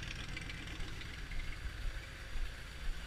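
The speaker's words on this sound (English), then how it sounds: "You can see the motor running nice and smooth." A car engine idles steadily with a low, even rumble and faint irregular knocks, close by and without speech.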